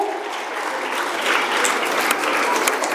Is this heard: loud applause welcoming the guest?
yes